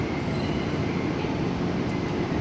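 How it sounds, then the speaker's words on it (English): Denver Airport automated train pulling into a station at night, a steady loud rumble of wheels and motor filling the whole moment with no talk. "A train is arriving."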